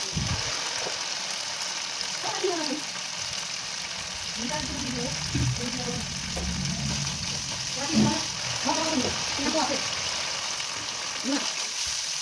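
Spices frying in oil in a pan for a banana stem ghonto, giving a steady sizzle throughout while a voice talks over it.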